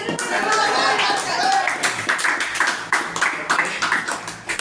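An audience gives a round of scattered handclaps for a wedding anniversary greeting, the sharp individual claps growing more distinct toward the end, while a voice talks over them.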